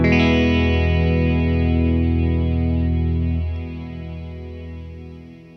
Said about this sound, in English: So I'm just going to engage the reverb side here